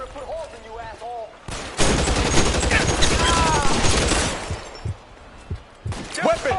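Loud bursts of gunfire from the L.A. Noire video game fill the middle of the clip, rapid crackling shots layered with shouting voices, framed by quieter stretches of talk before and after.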